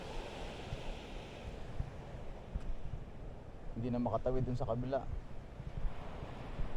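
Surf rolls onto a Mindoro beach on a choppy day, a steady wash of noise throughout with someone speaking briefly over it midway.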